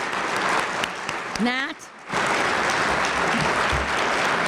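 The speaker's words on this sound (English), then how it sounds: "Could we have a round of applause for Lorian and" Audience applause at a family speaker-series event honoring guest speakers, with dense clapping throughout except for a short gap where a voice speaks; the clapping swells back to full strength after the gap.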